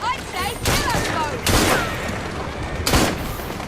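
Gunfire in the video game Assassin's Creed Syndicate: three loud, separate bursts of shots, each with a short echoing tail, over steady background game noise and faint voices.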